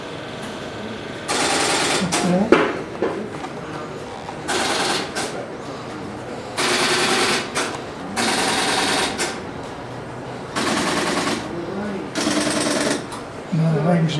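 Step-by-step telephone exchange switches in a Seattle museum clatter in several sharp, rapid mechanical bursts after a number is dialed, separated by short pauses, with people talking in between.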